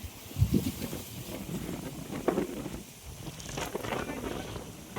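Gusty wind blows across open water, a low, uneven rush that swells and fades in soft buffets against the microphone.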